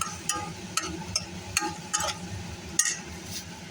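Fried paneer cubes are stirred into a simmering tomato gravy in a pan: a soft, steady sizzle with rhythmic scraping knocks from the spoon roughly every half second, close and fairly quiet.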